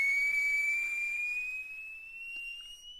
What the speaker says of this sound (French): il entend un sifflement aigu qui vient rompre le silence